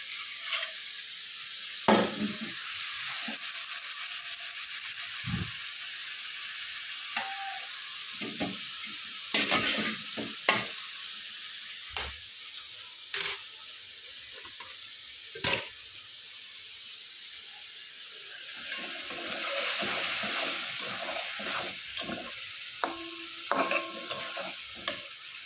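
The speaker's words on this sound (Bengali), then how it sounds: "মাছ দিয়ে মশলাটা ভালোভাবে কষায় নিচ্ছি" Fish with spices frying and being stirred in a pan, a steady close sizzle broken by scraping stirs and occasional clinks, growing busier toward the end.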